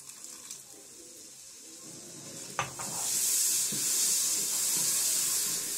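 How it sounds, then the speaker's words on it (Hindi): A spiced masala in mustard oil hisses and sizzles loudly in a pan just after a little water goes in for a potato curry, the sizzle rising suddenly and holding steady after a brief clatter. "अब हम इसमें ज़रा सा पानी ऐड करेंगे।"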